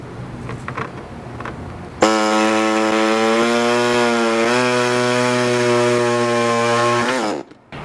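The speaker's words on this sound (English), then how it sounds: "My air saw just seems to fit in here a little bit better" A pneumatic air saw cuts through the sheet metal body panel at the wheel opening of a 5th-gen Toyota 4Runner, a loud, close buzzing reciprocating whine that starts abruptly, runs steadily for about five seconds, then stops.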